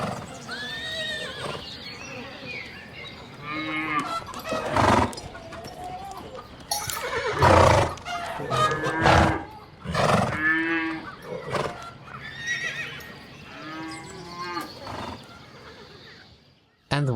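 Horses in a stable ambience built in Unity with FMOD: repeated neighs and whinnies, snorts and occasional hoof clops, fairly loud and overlapping throughout, with no talk.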